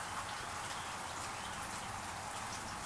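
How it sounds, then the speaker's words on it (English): Light rain falls steadily on a back porch, a soft, even hiss of many fine drops pattering without pause, fairly faint and with no voices. "the soft pitter-patter of the raindrops."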